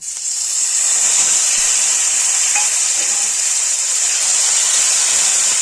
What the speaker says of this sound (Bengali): বেটে রাখা মশলাটা আগে ভেজে নেব